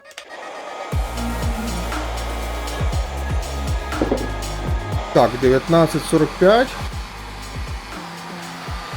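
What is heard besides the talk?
cordless heat gun running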